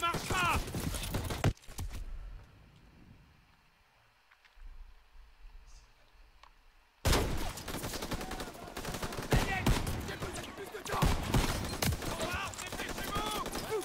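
Gunfire crackles in Call of Duty WWII combat, loud bursts at the start and again in a dense, sustained stretch after a quiet gap, with voices talking amid the shooting.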